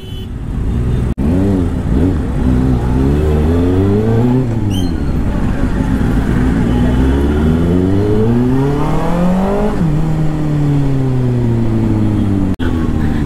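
A 2024 Kawasaki ZX-6R with a modified exhaust revs up and down repeatedly, rising and falling in pitch with a rough, throaty exhaust tone, close by and steady throughout.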